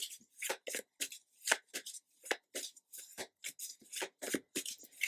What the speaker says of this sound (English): Sorry, these cards are not the easiest to shuffle.